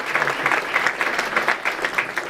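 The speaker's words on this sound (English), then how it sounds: "One more round of applause for the students." Steady applause from an audience after students are honored at a school research day event, dense and continuous clapping throughout with no voices over it.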